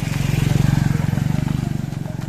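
A motorcycle engine runs close by with a steady pulsing low rumble that swells and then eases off slightly as it arrives, in a rural farm setting with a voice faintly present.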